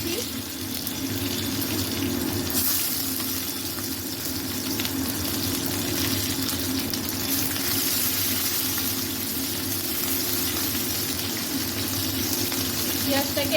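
Sliced onions with dried red chillies and bay leaves fry in hot oil for a Bengali boal fish head ghonto, giving a steady, fairly loud sizzle and hiss that runs without a break the whole time, with no talking.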